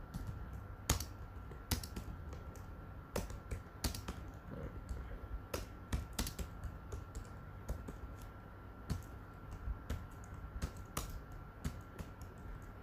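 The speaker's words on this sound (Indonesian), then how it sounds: "Sini saya akan mencoba mengetikkan nama saya." Typing on a computer keyboard while setting up an Ubuntu web server, quick close-up key clicks in bursts with sharper taps standing out, quiet and alone with no voices.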